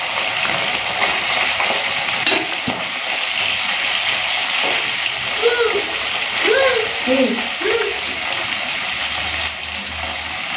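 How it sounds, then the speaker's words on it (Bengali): Small mola fish sizzle and spatter steadily in hot mustard oil, a constant crackling hiss with a voice speaking briefly over it midway. "চলুন তাহলে মাছটা ভেজে নিই।"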